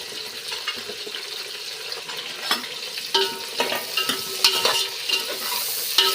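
Green chillies, onions and tomatoes fry in a pan, a constant close sizzle broken by scraping and clinking as a spoon stirs them. No one speaks.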